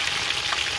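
Spicy buffalo chicken frying in a pan over medium-low heat, a close, dense crackling sizzle with steady popping of hot oil, heard alone.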